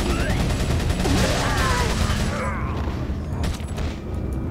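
Dense gunfire from the video game Resident Evil 4, with continuous loud booming shots and rattling mechanical clatter. The firing thins out toward the end while someone shouts over it.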